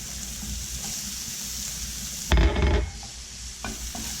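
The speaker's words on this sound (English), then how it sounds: "And we're going to add the shallots. I'm going to add a little bit more butter." Shallots dropped into melted butter in a pan burst into a loud sizzle, with a surge of stirring and spattering that settles into a soft steady fry and a few small clinks.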